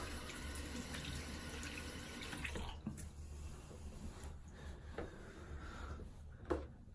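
Water runs steadily from a bathroom tap while a man wets his face before shaving, a soft continuous wash with faint splashes and hand movements, fairly quiet and close.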